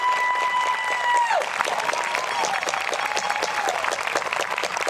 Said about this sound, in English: Audience, let's give them a round of applause to my advisory class one last time.